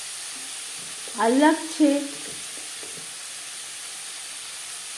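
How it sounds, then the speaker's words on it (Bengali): Onion, garlic and tomato fry in fresh oil in a kadai that was just used for frying fish, giving a steady sizzle throughout while a voice speaks briefly over it. "মাছ ভেজে নেওয়া কড়াইতে আবারও তেল দিয়ে দিলাম পেঁয়াজ, রসুন ও টমেটো"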